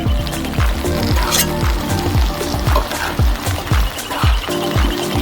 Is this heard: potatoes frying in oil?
yes